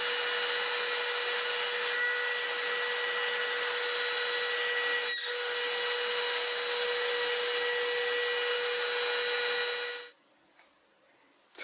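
A CNC machine routes plywood, making a steady whining, rasping cut with a constant tonal hum that runs for about ten seconds, then stops abruptly into near silence.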